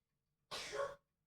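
A single sneeze, close and fairly loud, bursting out for about half a second against a quiet room.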